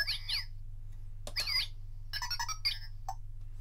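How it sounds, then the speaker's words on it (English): Electronic R2-style droid beeps and warbling chirps from a Star Wars Droid Factory color-changing toy playset, several quick bursts of whistles over a steady low hum, close and clear. "that sounds like an R2 unit."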